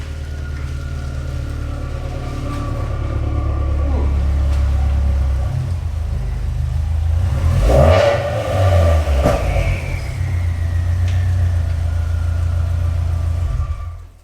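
A car engine revs loudly and nearby, with a rising turbo spool whistle and whoosh at the peak before it settles back into a steady drone. Nobody speaks.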